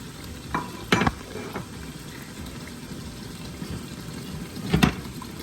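Eggplant and other vegetables cooking in hot palm oil, a steady close simmering sizzle broken by a few sharp clattering stirs of a utensil against the pot.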